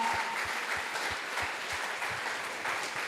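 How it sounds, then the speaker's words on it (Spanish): Steady applause from a church congregation, dense and continuous clapping throughout with no talking. "si va a aplaudir, aplauda fuerte en esta mañana"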